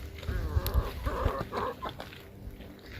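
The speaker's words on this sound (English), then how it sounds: "and Sparkle, one of our new chickens, seems to like puddles" Soft, low clucking from a chicken nearby, a few murmuring notes over quiet outdoor background noise.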